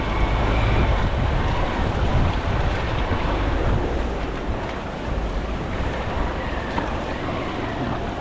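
Monsoon floodwater from heavy Konkan rain rushes in a swollen river beneath a village bridge in Sakharpa, a loud, steady roar of turbulent water with wind buffeting, no voices.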